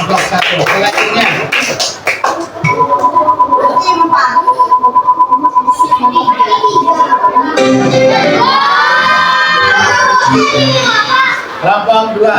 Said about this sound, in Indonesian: Oke, tepuk tangan untuk kelompok satu.